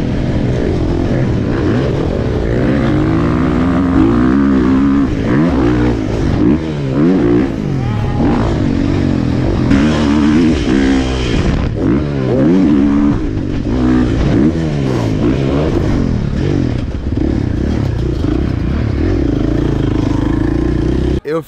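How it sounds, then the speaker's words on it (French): A 2023 KTM 450 SXF dirt bike engine revs hard during motocross practice, a loud continuous four-stroke roar rising and falling in repeated throttle surges, close to the microphone. "Un gros moteur ultra puissant mais dans un cadre, dans une moto qui est trop légère quoi."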